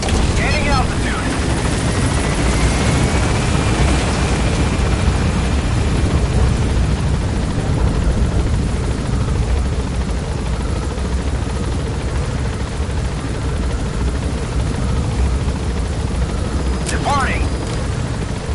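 Helicopter in Metal Gear Solid V: The Phantom Pain taking off from a landing zone and gaining altitude, a loud steady rotor and engine roar that continues throughout with brief game radio voices over it.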